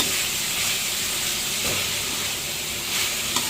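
Beef stir-frying with curry paste in a pan, a loud, steady sizzle and hiss close up with faint scraping stirs, continuous throughout with no talking.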